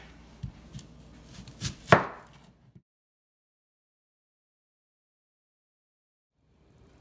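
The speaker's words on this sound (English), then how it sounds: "I'm gonna chop my onion and my garlic" A knife chopping onion and garlic on a board, a quick burst of several close, sharp chops that ends abruptly, followed by near silence.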